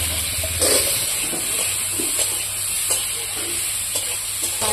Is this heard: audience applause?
no